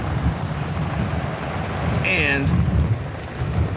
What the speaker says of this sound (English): peaceful rain. Quite a bit of thunder, but nothing crazy.